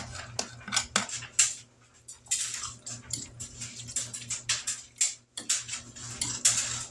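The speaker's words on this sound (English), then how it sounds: "We're just going to mix it all in there." Chicken spaghetti ingredients being mixed in a pot, with a utensil scraping and clattering steadily against the metal, close up and without speech.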